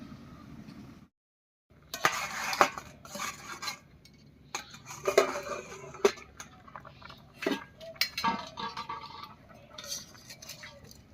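Metal pot lid scrapes and clatters as it comes off a pot of boiled gati kochu (taro), followed by repeated utensil clinks and rubbing handling noises close by.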